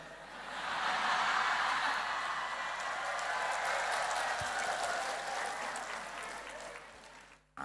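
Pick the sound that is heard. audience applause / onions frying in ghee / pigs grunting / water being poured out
audience applause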